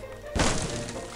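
A wooden door smashed apart in the zombie video game Land of the Dead: one sudden loud crashing impact with splintering debris, decaying quickly.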